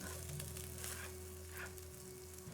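Fried rice with vegetables sizzles in a hot pot while being stirred, a continuous close frying hiss with a low steady hum underneath and no voices.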